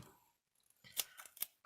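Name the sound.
scissors cutting a piece of 3D foam tape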